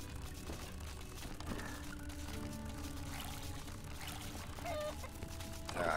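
Water is poured for farm animals in a steady, continuous stream over a busy farmyard background, with faint clucking fowl around.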